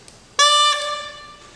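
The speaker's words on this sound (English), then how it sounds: "when I blow through just the reed, it sounds like this" Bagpipe cane reed blown on its own gives a single bright, buzzy, reedy squawk about a third of a second long that trails into a fainter tone, close and alone.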